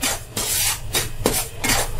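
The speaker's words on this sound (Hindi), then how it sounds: "अब हम मीडियम फ्लेम में सूजी को 4-5 मिनट भूज लेंगे" Semolina dry-roasts in a pan over a medium flame, stirred in steady, rhythmic rasping strokes, about five scraping sweeps, loud and close with no voices.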